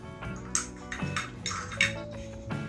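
Metal pot lids from a SY-500 camping cookware set clink and clatter as they are unpacked, several light sharp metallic knocks and rattles at close range, with no voices.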